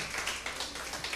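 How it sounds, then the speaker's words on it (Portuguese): Congregation clapping during a church service, a dense patter of many hands, steady and moderately loud across the whole short moment. "Uma salva de palmas para você então"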